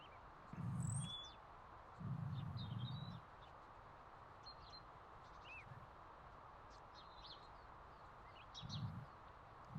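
Birds chirp and tweet faintly in the game Powerwash Simulator, scattered high calls over a steady background hiss, with a few low muffled thumps of activity in between.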